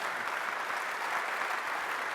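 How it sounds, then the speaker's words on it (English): Steady applause from a conference audience in a session hall, a dense even patter of many hands clapping throughout with no voices over it. "Double round of applause for him getting it back on time as well."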